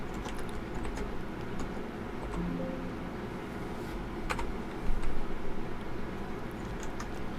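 Computer keyboard shortcut keys are pressed while working in an Excel spreadsheet, a few sparse, soft clicks and taps over a quiet room hum, with one slightly louder cluster near the middle.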